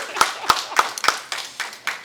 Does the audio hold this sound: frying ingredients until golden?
no